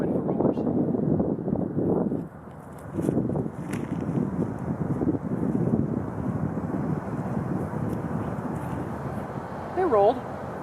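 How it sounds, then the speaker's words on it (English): Gusty wind buffets the microphone outdoors during disc golf practice, a steady low rumble that swells and dips, with a voice briefly heard near the end. "Terrible wind for rollers."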